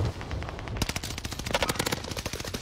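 Rapid automatic gunfire in the Warzone video game, a dense rattling burst of close, loud shots firing continuously with sharp repeated cracks.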